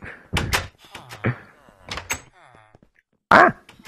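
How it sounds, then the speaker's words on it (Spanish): A wooden door in the video game Minecraft swings shut with a sharp, close thunk, preceded by Spanish-speaking players chattering over a short stretch of game sound. "se me cierra la puerta a la cara"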